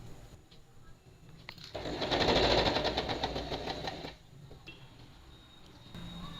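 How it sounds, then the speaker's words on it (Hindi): Sewing machine stitching the katori (cup) panel of a double katori blouse to its side part, a rapid mechanical whir that swells loud for about two seconds in the middle, then stops, with a quiet room before and after. "ये देखिए, ये सिलाई ऊपर की तरफ रख के सिलाई करना है।"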